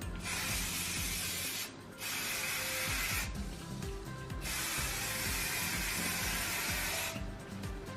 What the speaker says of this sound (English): I tend to go in with my finishing spray